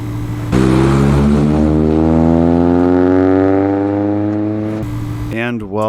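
A PS5 console's fan or coil noise, heard loud and close as a steady rising whine with stacked harmonics that climbs in pitch like an engine revving, then cuts off abruptly near the end.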